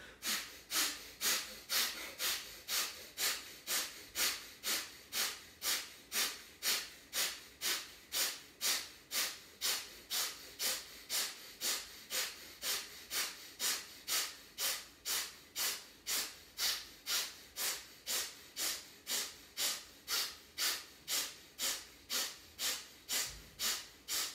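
Forceful rhythmic pranayama breathing, a fast even train of roughly two sharp nasal exhalations per second sustained for about 24 seconds, each a hissy puff, close and alone with no talk.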